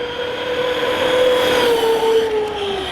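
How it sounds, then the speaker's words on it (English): A Team Corally Punisher 6S RC monster truck on stock 4S power makes a speed pass, giving a steady high-pitched electric motor whine that holds and slowly drops in pitch over a constant broadband roar, with no talking. "First pass on 4S stock."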